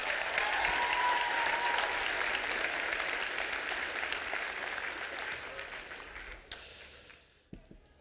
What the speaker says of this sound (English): a round of applause for Miranda